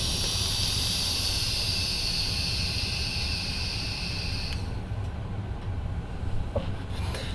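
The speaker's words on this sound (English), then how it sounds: "So let's take this for a vape." An Innokin Cool Fire IV mod with an iSub G tank is vaped at about 30 watts: a close, steady airy hiss runs for around four and a half seconds, then stops, leaving quiet room noise. No one talks.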